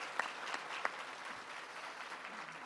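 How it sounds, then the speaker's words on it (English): Audience at an author panel applauding quietly and steadily, a soft, fairly distant patter of clapping with a couple of sharper claps near the start. "Round of applause for that."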